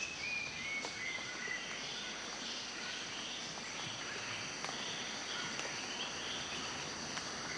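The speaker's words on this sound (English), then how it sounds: "The noise of the cities gives way to whispering winds, whistling birds, and chirpy crickets." Steady insect chorus with high, continuous cricket-like chirping and scattered whistling bird calls in the Taman Negara rainforest, a dense, even ambient bed with no talking.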